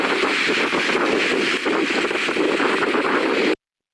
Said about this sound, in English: it sounded really windy